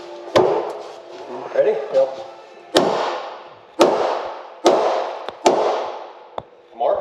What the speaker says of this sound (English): just whap it right here on the wheel well